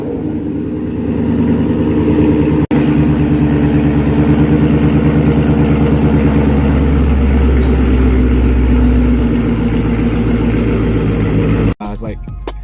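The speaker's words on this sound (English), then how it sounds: "I had the boiler over axle pipes on, and the Boiler Stinger exhaust, and the setup is freaking phenomenal." Motorcycle fitted with a new Boiler Stinger exhaust and over-axle pipes, a loud, close engine idling and rumbling with some throttle changes, briefly cut partway through.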